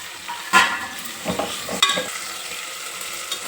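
Curry leaves, mint, coriander and chopped green chillies fry in oil in a pan for mutton curry, a low crackling sizzle punctuated by a few distinct clanks and scrapes of stirring.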